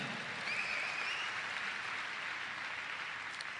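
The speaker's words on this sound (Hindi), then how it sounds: "तो उनके लिए हम एक जोरदार ताली बजाएंगे" Steady applause from a crowd at a leadership talk, a dense even patter of clapping that holds for the whole stretch at moderate volume.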